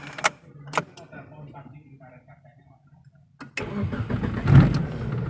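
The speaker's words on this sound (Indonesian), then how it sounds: "Coba kita langsung nyalain aja yuk." A few clicks, then the 2.0-litre engine of a 1990 Mitsubishi Eterna with manual transmission cranks and catches, settling into a loud, rumbling idle nearby.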